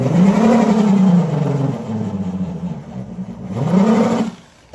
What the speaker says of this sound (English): this eraser wheel is a lifesaver once you learn how to use it, if you're taking off emblems or anything